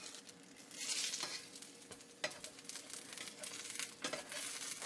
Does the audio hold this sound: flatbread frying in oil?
yes